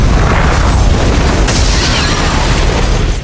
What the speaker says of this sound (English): 10 missiles precisely hit the Kingsman headquarters, wiping out the royal agents and even destroying the tailor shop.